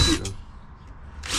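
A power drill bores into wood during a Peugeot Boxer L4H2 van conversion, with brief whirring bursts at the start and end separated by a quieter pause.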